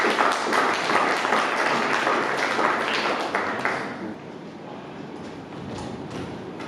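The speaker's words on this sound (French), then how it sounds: "Est-ce qu'on peut applaudir juste avant de les découvrir?" An audience at a film presentation at the Institut Français claps, dense and loud at first, then thinning and fading to scattered claps after a few seconds.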